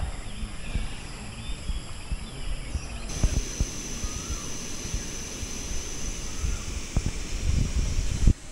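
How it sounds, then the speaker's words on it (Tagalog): Steady outdoor wind rushes at a Laguna campsite as a light drizzle begins, a low, even roar with soft rustling and occasional thumps, moderately loud and continuous without speech. "Biglang umaambon mga kapatid at lalakas yung hangin."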